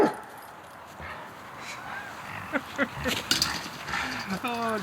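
A dog outdoors in snow, near a person shoveling, lets out short whimpers and a few yips, rising to a quick run of high whines near the end, over a faint background hiss.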